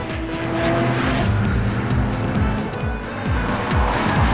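Race cars lapping the Hockenheim Formula 1 circuit, engines rising and falling through repeated gear changes as they rush past loud and close, with a touch of tire squeal.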